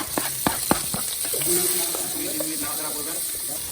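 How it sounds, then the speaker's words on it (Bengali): Chopped onion frying with crab sizzles and hisses under several sharp clicks and knocks as it is stirred in the pan. "এটা লাল করে ভাজতে হবে।"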